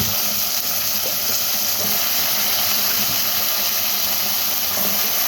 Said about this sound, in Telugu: తాలింపు అయితే వేసేసి ఉల్లిపాయ పచ్చిమిరపకాయ వేసాను ఇవైతే వేగుతున్నాయి